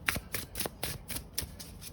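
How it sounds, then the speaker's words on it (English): Tarot cards are riffle shuffled close at hand in a quick run of about seven crisp fluttering bursts, each a brief papery rattle separated by short gaps, with no voice over them. "I need to remember to riffle shuffle without reversals."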